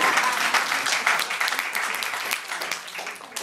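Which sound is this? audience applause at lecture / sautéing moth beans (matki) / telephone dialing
audience applause at lecture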